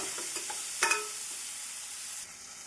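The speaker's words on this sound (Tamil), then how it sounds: "வெங்காயமும் தக்காளியும் நன்றாக மசியும் வரை நாம் வதக்கிக் கொள்ள வேண்டும்." Onions and tomatoes sautéing in a pan for plain vegetable parotta salna: a faint, steady sizzle with a brief scrape of stirring near the start.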